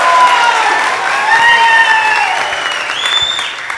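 Audience applause with scattered cheers fills a room, a steady wash of clapping throughout while whistles and excited voices rise over it, the crowd noise fading slightly toward the end.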